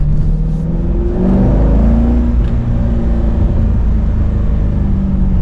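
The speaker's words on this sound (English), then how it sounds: "Even with the windows up, I can hear the exhaust and it sounds great." A car's exhaust heard from inside the cabin with the windows up, a loud, steady engine drone that swells as it revs and then holds at an even rumble throughout.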